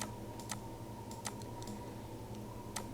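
Computer keyboard typing, heard as a few sparse, crisp key clicks at an unhurried pace over a steady electrical hum, with no voice.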